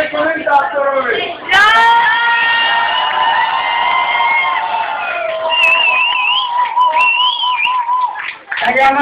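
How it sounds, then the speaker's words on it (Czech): A dance competition audience at an award ceremony cheers loudly, with high shrill screams and whoops from children, steady clapping underneath, and a few voices shouting over the crowd throughout. "Tak já vám děkuji za krásný potlesk."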